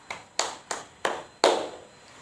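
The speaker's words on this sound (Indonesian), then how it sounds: "berilah tepuk tangan kepada kelompok 4" A classroom of junior high students applauds a group's presentation, with five distinct bursts of clapping rising in a ragged rhythm and the last one loudest and longest, close by, with no talking.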